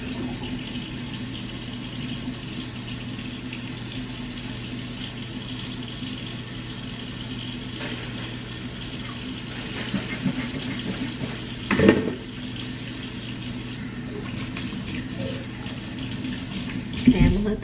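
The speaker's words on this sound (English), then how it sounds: "Let me wash my hands." Tap water runs steadily into a sink as hands are washed beneath it, a continuous close splash with a few brief knocks near the end.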